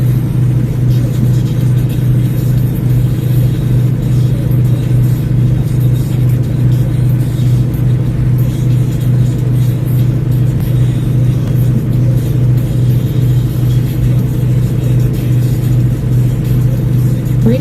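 A semi truck's engine held steady at 1,500 RPM while creeping under five miles an hour, a loud, continuous low drone with a constant hum and no breaks, heard alone without talk.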